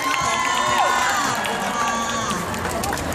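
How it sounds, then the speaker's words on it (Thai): A festival crowd at Gift Fest 2015 cheers and claps in a loud, continuous wash of shouts and applause, with a voice and tonal sounds mixed in. "ขอเสียงปรบมือให้กับกันนะคะ"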